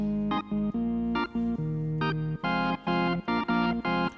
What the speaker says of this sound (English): So that's your basic 60s combo organ, one style of it.